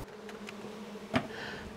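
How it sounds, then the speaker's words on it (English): Bees buzzing around a live honeycomb hive while the comb is extracted by hand, a steady close hum with a brief louder buzz as one passes near. "that's a live hive with hundreds, if not thousands, of bees"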